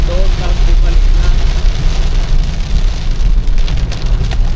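Light rain patters steadily on a moving car on a road in the Philippines, a loud, close wash of noise over a low rumble of road and engine.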